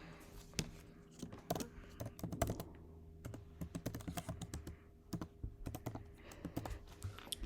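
Rapid irregular keystrokes on a computer keyboard, close and crisp, coming in quick bursts with short pauses between them and no talking.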